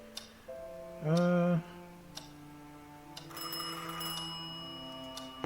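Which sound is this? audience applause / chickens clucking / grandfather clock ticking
grandfather clock ticking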